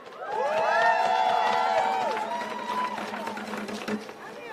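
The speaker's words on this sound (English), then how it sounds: "one more big round of applause for Imani" A rally crowd at a student debt cancellation event cheers and applauds for a speaker named Imani, with loud voices and whoops rising early, then clapping tapering off beneath ongoing chatter.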